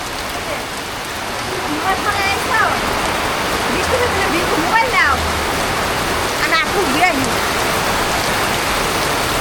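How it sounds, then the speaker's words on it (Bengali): Steady rain pouring on a rural village, a dense constant hiss of falling water close around, with a person talking over it briefly. "রান্না বান্না হওয়ার পরে যে বৃষ্টি নামছে তাও ভালো"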